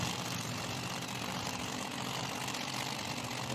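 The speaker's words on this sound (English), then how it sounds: "Big high RPM burnout in the right lane." Nitro drag-racing car with a large 871 supercharger doing a high-RPM burnout at an IHRA Outlaw Nitro event in Hebron, Ohio. It makes a constant, dense roar that holds steady throughout, heard from some distance.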